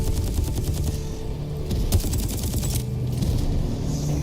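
Gunfire in the tactical shooter video game Exoborne, dense rapid automatic bursts with a heavy low rumble of explosions and mechanisms throughout, loud and continuous.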